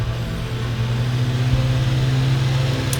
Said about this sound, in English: the electric pre-rotator system will engage and start to spin up the rotor system